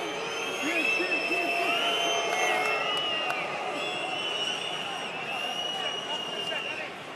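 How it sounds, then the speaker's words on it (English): A rugby crowd at a Top 14 match between Stade Français and Perpignan voices disapproval, a sustained whistling and jeering roar filling the stadium, with a commentator speaking over it. "The crowd don't like it."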